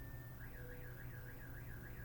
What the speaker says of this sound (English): now there's a car alarm going off